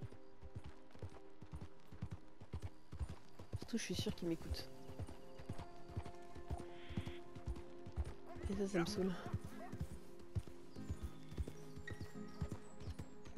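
Horse hooves clip-clopping at a steady walking rhythm in Red Dead Redemption 2, with someone speaking French over the game audio and a couple of brief whinny-like bursts.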